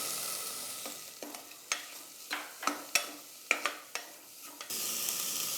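Chopped onions sauté in a pan for horse gram soup, a soft background sizzle broken by about eight sharp, rhythmic scrapes of a spoon stirring, followed by steadier frying noise.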